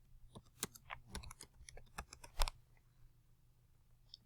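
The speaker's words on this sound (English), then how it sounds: "we're going to type our name" Someone types a name on a computer keyboard, producing a quick, irregular run of close, light key clicks that trails off into quiet with one last tap.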